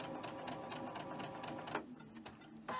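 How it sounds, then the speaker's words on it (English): A sewing machine chain stitches quilt fabric blocks for a holiday gingerbread quilt, running in a steady, fast mechanical whir with a short pause near the end. "Now go ahead and chain stitch these."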